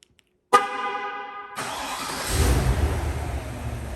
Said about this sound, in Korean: 시동이 걸렸고요